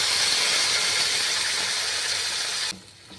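Vegetable paste for an egg do-pyaza curry fries in a hot pan with a broad, even, close sizzle that runs steadily and then drops away sharply near the end.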